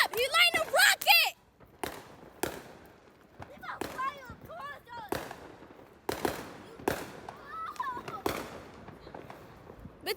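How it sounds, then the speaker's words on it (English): A small firework rocket lit on a street during a Fourth of July celebration gives off a string of sharp cracks and bangs, several close together early and more spread through the rest, with people talking and calling out in between. "He about to light the rocket. Look at the little rocket."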